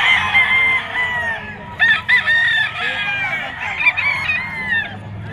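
A bull stag rooster crows repeatedly at a crowded pet market, its harsh, drawn-out calls rising over steady background chatter and clucking from other fowl nearby.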